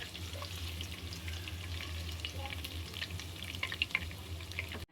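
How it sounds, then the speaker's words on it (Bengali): Onion, bay leaves, cinnamon, cardamom and cloves fry in oil in a pan for Bangladeshi pulao, giving a steady low sizzle with a few brief crackles and pops, no voices present. "একটু ভাজা ভাজা হোক।"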